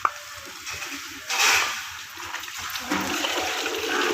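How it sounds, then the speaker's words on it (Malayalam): Water pours into a pan of jackfruit seed curry, a rushing splash that swells and continues with a hissing simmer, close and fairly loud, no talking. "നമുക്ക് ഇതിലേക്ക് ലേശം വെള്ളം ഒഴിച്ച് കൊടുക്കട്ടോ."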